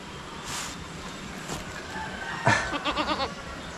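A goat bleats nearby with a wavering, quavering cry over steady outdoor wind and background hiss, preceded by a couple of faint calls.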